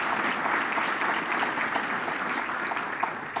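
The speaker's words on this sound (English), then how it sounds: "How about a round of applause for the video that's put together?" Steady, fairly loud crowd applause fills a gala hall at the Wilkes County Hall of Fame event, continuous clapping from many hands with no break.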